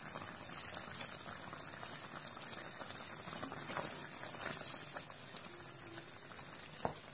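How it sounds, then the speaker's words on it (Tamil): Tomato pickle with tamarind simmers in a covered pan, a quiet, low bubbling with occasional soft pops and small clicks, heard alone without talk. "மூடி வச்சு கொஞ்சம் நேரம் வேக வைக்கும், நல்லா மசிஞ்சு வரட்டும்"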